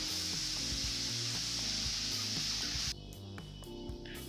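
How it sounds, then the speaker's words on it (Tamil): Grated pumpkin sautéing in ghee for pumpkin halwa gives a steady, loud sizzle across the pan, broken by a sharp change partway through as the frying continues. "இந்த மாதிரி துருவின பரங்கிக்காயை சேர்த்துட்டு ஒரு 5 நிமிஷம் போல் நல்லா வதக்கிக்கோங்க நெய்யில்"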